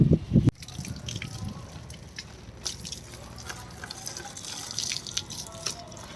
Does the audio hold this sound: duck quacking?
no